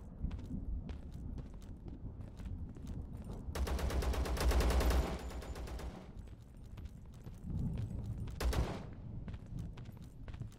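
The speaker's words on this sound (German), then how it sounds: "Da schießt auf jeden Fall etwas die ganze Zeit." Continuous gunfire in the shooter Zero Sievert, with scattered single shots, then dense sustained automatic bursts and a later volley, all fairly faint and heard over footsteps.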